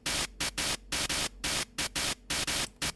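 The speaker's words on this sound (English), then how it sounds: "fast pan on it, so it has like a tremolo stuttery effect." A Serum 2 noise synth panned very fast by an off-grid triangle LFO, giving a loud stuttering tremolo of bright static bursts chopping on and off about five times a second, alone.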